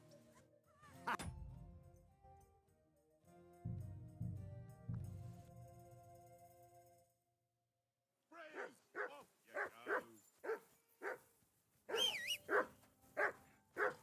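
Dog barks in the medieval role-playing game Kingdom Come Deliverance II, a rapid series of about ten loud, close barks in the latter half, following a few dull thumps and quiet ambience.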